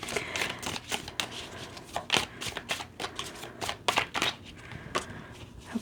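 A tarot card deck being shuffled up close, a rapid series of crisp riffling bursts and slaps in uneven rhythm, fairly quiet with no talking.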